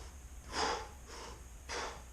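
Two faint breaths drawn in through the mouth, one longer and one short, demonstrated alone in a quiet room as a breathing pattern for a CrossFit thruster.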